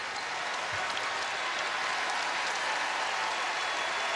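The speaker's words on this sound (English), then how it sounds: "and Lightfoot just fouled out. Who will get a very nice reaction from the Kansas crowd on his way to the bench" A home basketball crowd at Kansas, during a game against Oklahoma State, applauds a player heading to the bench after fouling out: a dense, steady wash of clapping and cheering from a large arena audience, loud and unbroken throughout.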